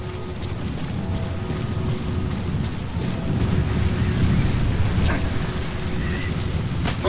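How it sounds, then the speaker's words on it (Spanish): An approaching sandstorm in Metal Gear Solid V: The Phantom Pain roars as a dense, steady rushing wind-and-grit wash, swelling slightly in loudness midway, with faint crackles and no voices over it. "Se esperaba que llegue la tormenta de arena."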